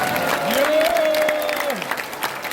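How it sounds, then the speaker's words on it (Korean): Applause from an audience at a Monday regular education meeting of Jayu Maeul in Seoul, Gyeonggi and Incheon, honoring a pastor. Steady clapping fills the room for about two seconds, with a rising and falling whistle-like cheer over it. "우리 장하영 목사님 건강하시라고 박수 한번 보내주십시오"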